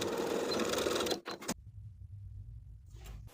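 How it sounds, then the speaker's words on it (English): A sewing machine runs fast and loud for about a second, stitching back and forth through a tie and the casing of a jumpsuit, then stops abruptly, leaving quiet handling noises. "I'm going to sew back and forth right on top of the casing and through the tie on the inside, just with a few straight stitches"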